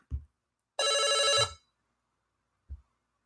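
A telephone rings once on a call-in show, a loud electronic bell burst lasting under a second and standing alone between brief low thumps.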